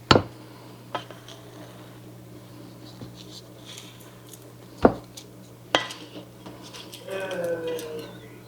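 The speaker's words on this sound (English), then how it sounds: "We're going to put them right here in that dish." Sticky butterscotch Rice Krispie treats are pressed into a buttered dish in a home kitchen, giving a few clinks and knocks of a utensil against the dish, soft patting and scraping, with a person talking.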